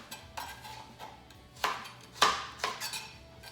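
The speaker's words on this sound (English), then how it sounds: "I like to cut it into about 4 slices, and then each one of those slices into little matchsticks." A knife slices carrot into matchsticks on a cutting board, several crisp separate chops with short gaps between them, close and fairly quiet.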